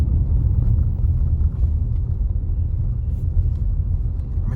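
Road traffic during a morning drive through Anchovy, Jamaica, rumbles low and steady from inside a moving car, a continuous engine and road drone with wind noise and no distinct passes.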